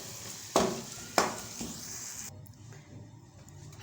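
Biryani masala mixture being stirred and fried in a pan, with two sharp scraping strokes followed by a softer one, then a faint steady sizzle.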